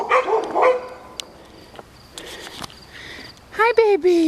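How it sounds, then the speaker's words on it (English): Beagle-like dogs bark from a nearby patio, with sharp yelps at the start and a stronger run of barks near the end, separated by quieter outdoor ambience and faint insect chirping. "There's a couple beagle-y looking dogs up on that patio."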